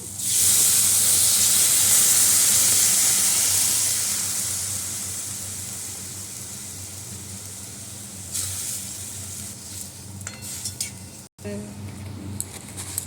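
Water poured onto nearly boiled elephant apple for chutney sends up a loud, bright hiss of steam that slowly fades into a softer bubbling simmer, with a few clatters of utensils near the end.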